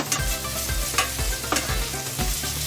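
Seasoned vegetables and meat stirred and mixed in a single pan, a loud continuous sizzle and frying with repeated scraping strokes of a utensil at a steady rhythm, close up.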